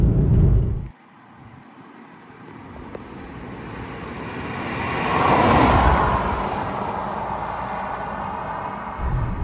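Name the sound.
Ford Mondeo ST220 3.0 V6 driving on a road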